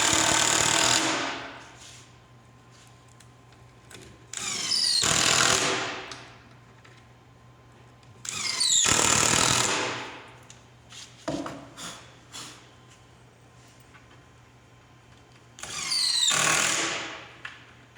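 Cordless drill or driver screwing parts of a single-door base cabinet together, four loud whirring bursts of a few seconds each with quieter handling clatter and a steady low hum between them.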